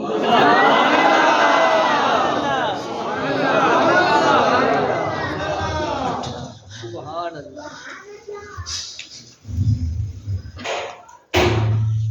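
A large audience at a religious speech on the importance of prayer and the praise of Ali cheers and chants slogans loudly and in unison, the roar swelling in waves, then breaks into scattered shouts and bursts of chatter.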